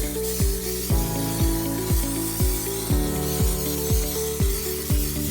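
Cooking oil sprayed in short, regular bursts over breaded pork chops in an air fryer, about ten quick hissing pulses in a steady rhythm, close and alone.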